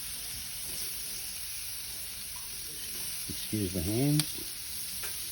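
Onions for a beef and prawn stir fry dropped onto a hot Weber barbecue hotplate, giving a close, steady hiss and sizzle with a brief burst of clattering, and someone speaks briefly over it.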